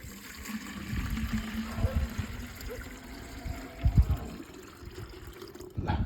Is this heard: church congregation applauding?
no